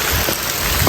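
Steady, dense rain falls close by in rural Laos or Thailand, a continuous loud hiss with no voices over it.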